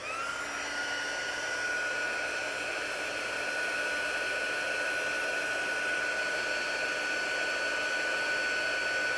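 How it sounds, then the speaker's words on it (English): A heat embossing tool blows hot air in a loud, steady whoosh with a faint high whine, continuing unbroken throughout. "I'm going to turn the embossing tool on here"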